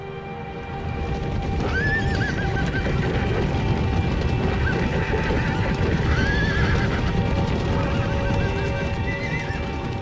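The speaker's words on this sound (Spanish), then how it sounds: "Muchos de estos caballos todavía no han sido domados." Untamed First World War cavalry horses neighing repeatedly, several high whinnies rising over a dense rumbling bed of hooves and crowd noise, some closer and louder, others fainter.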